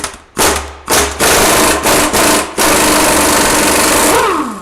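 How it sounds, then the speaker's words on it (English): Pneumatic impact wrench hammering off a transfer case yoke on a 1998 Chevy 1500 5.7L with a 243C transfer case, loud and close, in several short bursts and then one long sustained run that winds down. "Get this yoke off here next. Hope the impact ain't too loud"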